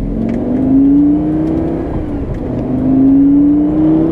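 A Lamborghini Gallardo with the e-gear transmission shifts in regular mode. The loud engine rises in pitch, breaks off briefly at the gear change, then climbs again.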